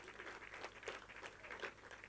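Applause at a political party NEC meeting, a sustained crowd clapping that is steady and moderately distant, filling the moment without a break.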